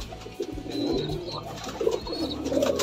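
High-flying pigeons, aggressive birds of a good colour, coo in low, soft, repeated bursts from close by against a steady hum of background noise.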